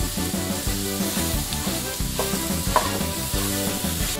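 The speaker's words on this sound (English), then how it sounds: "let's kind of get this stirring around really good in that roux." Vegetables and spices are stirred into a roux for New Orleans–style gumbo, producing a soft sizzle with repeated scraping spoon strokes against the pot at close range, no speech.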